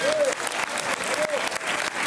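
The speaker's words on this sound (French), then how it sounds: "je vous demande de faire un tonnerre d'applaudissements pour notre directeur artistique, Stéphane Goudet." An audience at the opening of the Montreuil film festival gives steady, dense applause for the festival's artistic director, with scattered whoops over the clapping.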